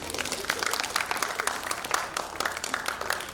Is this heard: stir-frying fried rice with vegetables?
no